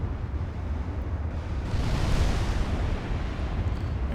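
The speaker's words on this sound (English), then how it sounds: "Launching of torpedoes." Torpedoes launching from a battleship in Ultimate Admiral: Dreadnoughts, a loud, steady rumbling whoosh that swells midway and holds without letup, with no talk over it.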